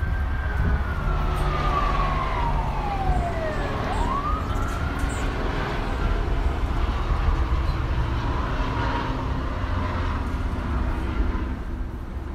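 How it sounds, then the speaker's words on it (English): Los Angeles street ambience with an emergency siren wailing, sweeping down and then rising again, over a steady roar of city traffic and engines, fairly loud and close, with no talking. "the sounds that I hear on a daily basis are sirens and helicopters and motors and machines and music"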